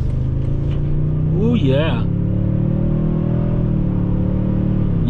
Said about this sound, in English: Pretty nice accelerating truck, to be honest.